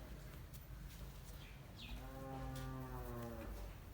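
A Nili-Ravi water buffalo in a village sale lowers out a long, deep moo lasting over a second, close and clear over a steady background hum.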